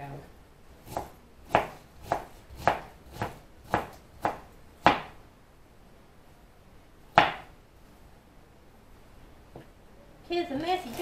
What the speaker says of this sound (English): It's me chopping something up.